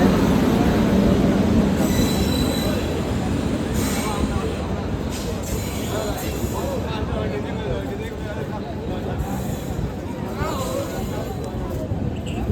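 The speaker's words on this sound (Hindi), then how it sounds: "इंतज़ार करते हुए फिर आ गया यह सत्याग्रह एक्सप्रेस और हम इसको बैठते हैं" The Satyagraha Express pulls into a station with a loud, close rumble of wheels, metallic squeals and clattering over the rails. A person talks over the noise throughout.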